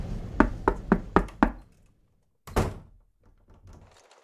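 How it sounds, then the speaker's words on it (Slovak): Five evenly spaced knocks on a wooden door, close and solid, then a pause and a heavier thud as the door is pushed open, with faint rustling afterward. "Zaklopala na dvere a vošla dnu."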